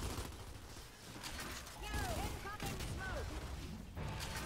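Gunfire in the shooter Gears 5 during a ranked Control match, a steady dense clatter of shots and battle noise with brief whistling effects, moderately loud and continuous throughout.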